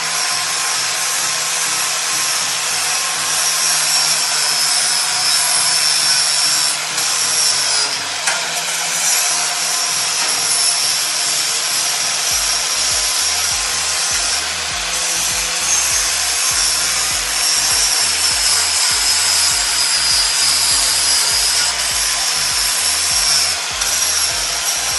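An angle grinder with a flap disc sands metal on a bike. It runs as a loud, continuous abrasive whine with a steady rasping texture for the whole stretch.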